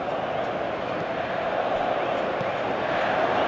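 A stadium crowd urging a shot during a Brazil versus South Korea match in Pro Evolution Soccer 2022, a dense continuous roar of many voices, loud and steady throughout.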